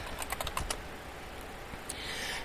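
Fingers type on a computer keyboard in a quiet room: a quick run of light clicking keystrokes, then a lone tap after a short pause, close and fairly soft.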